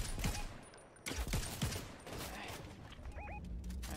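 Gunfire in the video game Fortnite: several quick, scattered shots over a dense game soundscape, with faint electronic tones and no clear talk.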